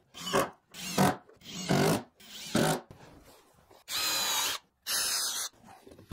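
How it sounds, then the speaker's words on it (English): A power drill pre-drills screw holes in wood, several loud, close bursts of whirring, each about half a second to a second long, separated by short pauses. "so I'm just going to screw this, pre-drill these,"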